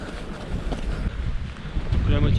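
Strong wind on a coastal trail race in Brittany buffets the microphone with a steady low roar, rising louder toward the end, with a voice faintly mixed in.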